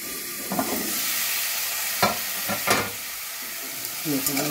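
Potatoes fry in a pan on lowered heat with a loud, continuous sizzle, broken by several scraping stirs of a spatula.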